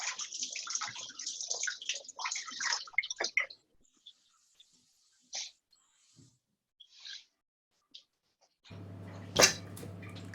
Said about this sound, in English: we should probably give our peppers a quick rinse